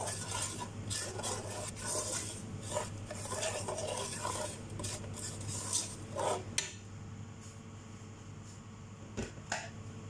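A spoon scrapes and clinks steadily around a pan of butter shrimp with garlic, with a soft sizzle underneath and irregular metallic taps. It is fairly quiet, and the stirring thins out near the end.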